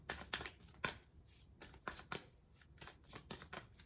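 A deck of tarot cards is shuffled in a quiet room, a run of soft crisp riffling bursts and slaps repeating at an uneven pace, close but gentle, with no talk over it.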